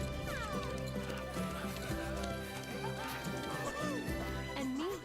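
A horse in the Disney Dreamlight Valley video game on Wish Blossom Ranch clip-clops and whinnies under playful orchestral music, its hoofbeats and neighs close and bright.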